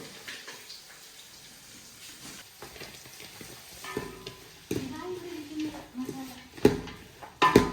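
Sliced onions tossed into a frying pan for Easter beef curry, sizzling and scraping as they are stirred, starting quiet and growing louder with sharp clatters near the end, while people talk over it.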